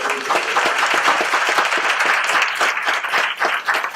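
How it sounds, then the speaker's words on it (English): An audience at a San Diego Mesa College show claps warmly. The applause is dense and sustained with crisp individual claps, loud and near, and no voice over it. "Let's have a round of applause."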